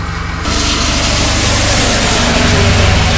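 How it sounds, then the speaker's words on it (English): A car drives past on a quiet rural road, its engine and tire noise swelling suddenly from near silence into a loud, steady roar that stays close and sustained. "Oh, and there's a car going by."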